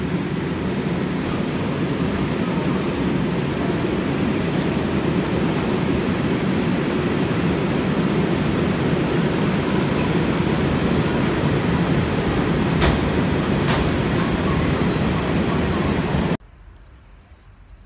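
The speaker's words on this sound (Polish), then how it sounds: "Te tramwaje za mną to też raczej późny PRL niż XXI wiek." Old communist-era trams rumble through Gliwice, Poland, in a loud, continuous roar of wheels and motors on rails with a couple of sharp metallic squeals, cutting off abruptly near the end.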